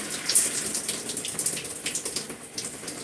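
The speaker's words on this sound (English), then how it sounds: "I'm going to add some water" Water splashes and pours steadily from a tap or sprayer while natural gray hair is being washed, a close, continuous gushing flow with small fluctuating surges.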